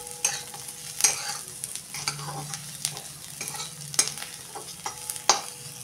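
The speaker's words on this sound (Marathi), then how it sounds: "त्यात आता टाकूया हे 8-9 काजू पण चांगले" Onion and a handful of cashews being sautéed in a pan, a low steady sizzle broken by repeated spatula scrapes and taps at an uneven rhythm, close and moderately loud.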